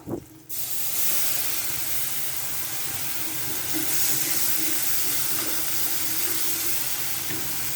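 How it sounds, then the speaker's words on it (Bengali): Onion paste frying in hot oil in a Bengali home kitchen, a loud steady hissing sizzle that starts abruptly after a brief clatter and continues unbroken and close, with no talk. "পেঁয়াজ বাটাটাও খুব সুন্দর করে ভেজে নিতে হবে।"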